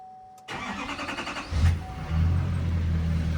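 A diesel engine cranks with a rhythmic starter churn after glow plug work, catches with a sudden rise, then settles into a steady, low, close idle.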